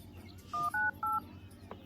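Three short dual-tone keypad beeps from a Vivo Y28 phone as a number is dialed, each tone clear and close, spaced in quick succession over a faint background hum.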